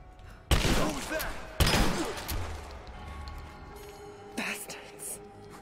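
Shotgun fire in Rise of the Tomb Raider gives two sharp, heavy blasts about a second apart, each trailing into a rumbling decay, followed by quieter thuds and a faint voice.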